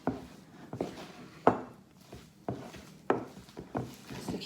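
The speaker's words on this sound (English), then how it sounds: "Going to stir this all together to see how it's coming together." A spoon stirs a thick vegan fish cake mixture in a bowl, giving a steady run of soft scraping knocks about every half second, close and fairly quiet.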